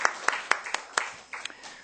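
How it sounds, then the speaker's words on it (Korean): A church congregation claps briefly in encouragement, a short burst of separate, sharp claps close by in a hall, thinning out after a couple of seconds. "우리 송인도자들이 격려의 박수를 좀 줬으면 좋겠습니다"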